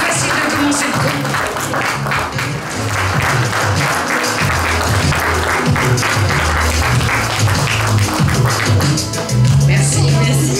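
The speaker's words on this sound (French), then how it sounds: "On l'applaudit." Audience at the Auxerre Galactic Days 2023 event applauds steadily and loudly for about ten seconds, a dense wash of clapping with a low hum or music-like tones running underneath.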